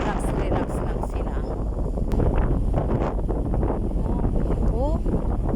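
Strong sea wind roars across the deck of a ferry running from Vancouver to Victoria, a constant heavy buffeting rush with a person talking faintly beneath it.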